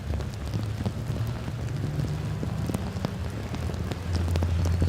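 Heavy rain pours down at Snetterton race circuit as a dense, continuous patter and wash, steady and fairly loud, with a low rumble swelling near the end.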